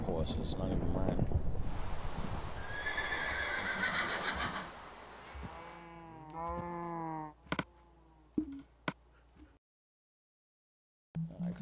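Horses whinnying in the Minecraft video game, a loud, drawn-out neigh over other game noise, then a few sharp clicks before the sound cuts to silence.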